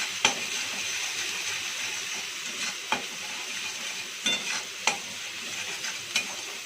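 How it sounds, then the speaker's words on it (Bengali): Onion, ginger and garlic paste frying in a kadai, a steady close sizzle with several sharp scraping knocks of a spatula stirring at irregular intervals, no talking. "এবার কড়াইতে আস্তে আস্তে করে আমি দিয়ে দিলাম পেঁয়াজ, আদা, রসুনের পেস্টটা। একটু নাড়াচাড়া করে নেব।"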